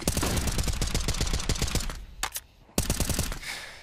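Rapid automatic gunfire from Counter-Strike, loud sustained bursts of closely spaced shots that stop for a moment near the end, then resume with another burst.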